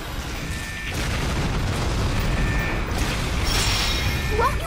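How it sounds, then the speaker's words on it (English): A grenade launcher fires in the video game Resident Evil: The Umbrella Chronicles, producing a continuous, dense booming roar of blasts and rumble with a few sharper bursts. "Grenade launcher time."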